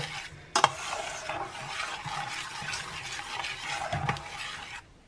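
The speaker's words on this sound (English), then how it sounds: "we'll give it a good stir through, make sure those chia seeds get fully incorporated" A spoon stirring chia seeds through mixed berry jam in a pot, a steady close wet swishing and scraping that runs nearly five seconds, with a couple of sharper clinks against the pan.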